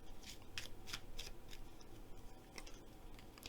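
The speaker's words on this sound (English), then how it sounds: "Let's draw a language of the flowers cards for you." Language of the Flowers oracle cards being shuffled, a quiet run of crisp rhythmic riffles and flicks repeating steadily at close range.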